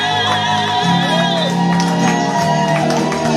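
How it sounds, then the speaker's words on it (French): A church congregation shouts and whoops with joy, a loud, continuous wall of raised voices mixed with music and sustained cries across the whole stretch. "Est-ce qu'on peut pousser des cris de joie?"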